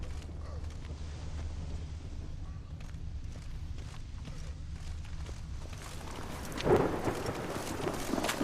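Steady rain hissing in the Witcher 3 video game, with a low rumble of thunder and creaking ambience beneath faint voices, swelling briefly toward the end.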